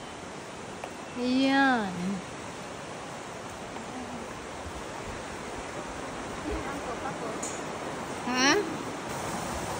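A river in Nasu Shiobara, Japan rushes in a constant broadband hiss close by, while people talk briefly over the flowing water.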